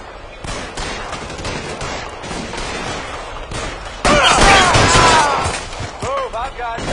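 Gunfire in L.A. Noire: rapid shots and bursts ring out over a steady background, with a loud fusillade midway and shattering impacts. Shouting voices are mixed in.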